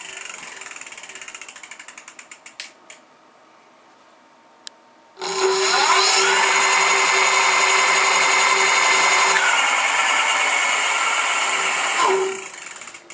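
The electric motor of a Long Ranger turns a wheel at low speed: quiet rhythmic ticking, a short pause, then a loud, close, steady mechanical whir that runs for about seven seconds before fading.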